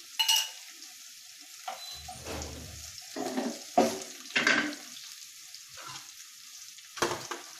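Green chilies hitting hot oil in a frying pan give short sizzling bursts, several spaced crackles over a few seconds, close and fairly quiet with no talking.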